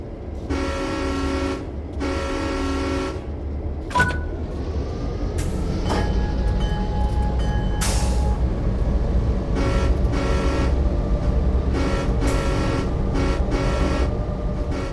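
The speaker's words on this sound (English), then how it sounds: "This locomotive is a classic electromotive F7 diesel" An EMD F7 diesel locomotive on the Clinchfield Railroad in Train Sim World 3 rumbles steadily as it starts to move, with a low engine drone throughout and several sharp horn blasts and toots breaking in over it.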